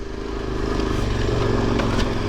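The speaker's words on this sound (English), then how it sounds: "Colby's already gone up on the KLR" Kawasaki KLR dual-sport motorcycle climbing a steep uphill trail in the Burnt Knob section of the Idaho backcountry route, its single-cylinder engine droning steadily and close under load, with no talk.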